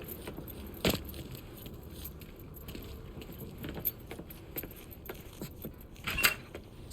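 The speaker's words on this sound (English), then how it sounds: "Lincoln, pick up the keys." Keys jangle as they are picked up in the video game Mafia III, a sharp metallic rattle near the start and another brief jingle near the end over a low ambient background.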